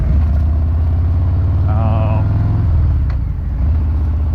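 A Harley-Davidson Fat Bob motorcycle fitted with a Rinehart exhaust idles with a loud, deep, steady rumble close by, while someone talks over it.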